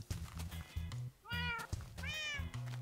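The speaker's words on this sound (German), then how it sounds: "Jetzt sind beide Katzen hier." Minecraft video game cat meowing, two rising, wavering mews close and clear over steady game music, one near the middle and another a half-second later, with no talk.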